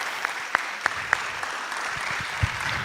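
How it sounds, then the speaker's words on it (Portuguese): An audience applauds after a talk at an arts conference, a thin scattering of claps popping over a constant hissy room noise, fairly sparse and modest in volume. "Uma salva de palmas aqui para o Gustavo e para o Ricardo."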